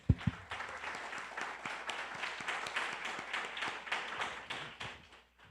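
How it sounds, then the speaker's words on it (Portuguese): A church congregation claps together in a dense, steady round of applause with a few sharp claps at the start. The clapping fades away near the end. "Vamos aplaudir esse Deus?"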